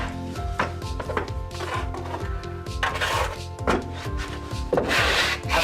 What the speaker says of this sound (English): The other option is now using a trowel.